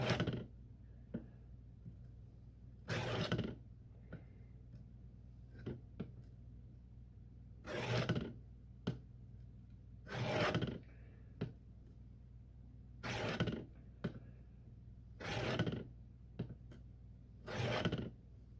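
A knife blade of 8670 steel is drawn across a Work Sharp sharpener in short bursts of grinding hiss, about eight passes spaced a second or two apart, close and fairly quiet with near silence between strokes.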